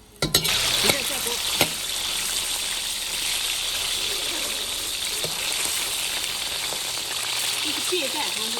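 Strips of a local pi dai are dropped into a hot wok, setting off a sharp burst of sizzling and a couple of clanks, then a steady loud hiss of frying.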